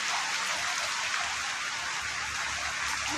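Steady rain pours down, a dense hiss of drops hitting surfaces with no talking, constant and fairly loud.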